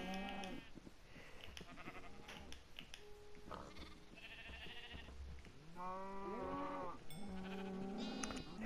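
Sheep bleat repeatedly in the video game Minecraft, several wavering calls in close succession, loud and near, with no talking over them.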